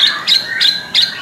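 Kacer songbird chirping close and loud, four sharp bright chirps repeated in a quick regular rhythm, alone without talk.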